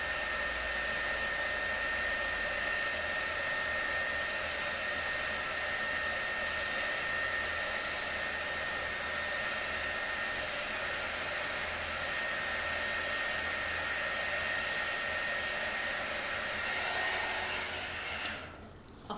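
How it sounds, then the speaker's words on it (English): A Wonder Wand blower runs steadily with a loud, constant airy roar as it blows paint off the bottom of a painted piece, then cuts off abruptly near the end. "I might just give it a quick blast with my Wonder Wand"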